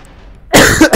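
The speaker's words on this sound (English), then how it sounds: "I've been having the coughing fit on you guys." Two harsh, close coughs from a coughing fit burst out in quick succession after a moment of near silence, during Black Mesa game play.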